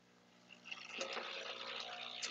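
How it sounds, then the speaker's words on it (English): Hot water flushes through the group head of a Breville Barista Express espresso machine, a steady hissing rush that builds and runs on, with a pump hum and a small clunk near the end. "I'm just gonna flush my shot here."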